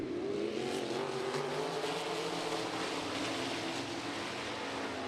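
360 sprint cars race around the dirt oval at I-90 Speedway, a steady, dense engine roar that holds at a constant loud level for the full stretch with a faint rising whine, no voices.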